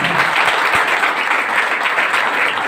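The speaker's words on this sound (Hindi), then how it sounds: "उनके लिए कोई जोरदार ताली हो जाती है" An audience at a gathering in Shamli claps loudly for a guest, producing dense, steady applause that holds at full strength for the whole stretch, with no voices rising above it.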